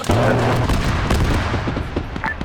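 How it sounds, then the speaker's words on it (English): A loud, close blast in the military game Arma 3 erupts at once and rumbles on with crackling, gunfire-like debris that fades over a couple of seconds. "He's gonna explode in a second."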